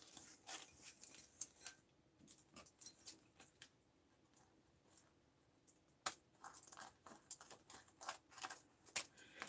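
Scissors snip through ribbon for a DIY vase decoration, making quiet, close, irregular clusters of crisp snipping and rustling sounds with a pause in the middle.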